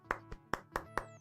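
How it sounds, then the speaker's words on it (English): Slow, quiet golf clap of about six separate hand claps, evenly spaced and soft, heard alone with no talking. "Golf clap."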